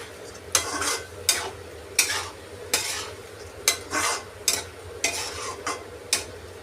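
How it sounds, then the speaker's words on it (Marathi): A spoon scrapes and knocks rhythmically through masale bhat rice cooked with masoor dal in a pot, about ten distinct stirring strokes close up, each a bright scraping swish, with no talking. "तर पुन्हा एकदा आपण ह्याला असं छान मिक्स करून घ्यायचं आहे।"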